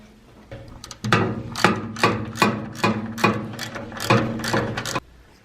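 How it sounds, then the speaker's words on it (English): Ratchet with a 1/2 inch socket tightening a brake line fitting on a 1973 Camaro: about eight quick, evenly spaced clicking strokes, close and sharp, with no talk. "tighten it all the way down with a 1/2 inch socket"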